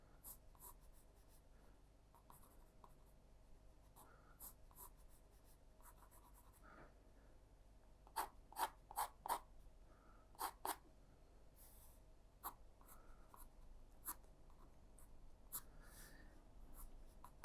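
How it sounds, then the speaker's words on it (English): Pencil sketches guide lines for a watercolor and ink drawing of a high street deli, quiet scratchy strokes in short bursts with a cluster of crisper marks midway, close and soft without talk. "I'll sketch a little bit of that in."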